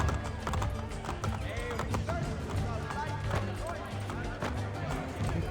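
Horse hooves clip-clop at a gallop through a town in Assassin's Creed Brotherhood, a steady quick rhythm under game music and ambience with someone talking over it and an occasional whinny.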